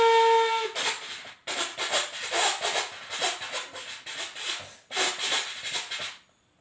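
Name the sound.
child imitating an old-fashioned train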